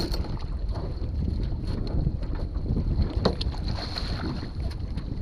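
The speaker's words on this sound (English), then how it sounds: "that wind is pretty strong" Strong wind blows outdoors by the water near a sunken boat, a steady loud roar buffeting the microphone throughout with no break and no talking.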